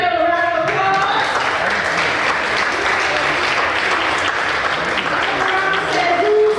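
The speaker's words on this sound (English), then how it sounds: "Let's give our panel a round of applause." A large audience at a voting rights plenary session applauds the panel, loud sustained clapping with crowd noise and some voices mixed in beneath it throughout.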